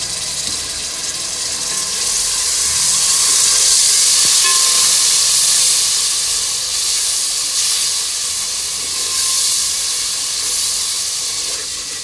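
Water poured into frying fenugreek spices throws up a loud, continuous steamy hiss that rises and falls gently and fills the whole stretch with no voices.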